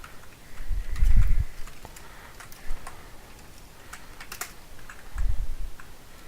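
Keyboard typing on a computer while entering commands in a virtual machine network setup, with scattered key clicks throughout, a few louder thumps on the desk, and no voice.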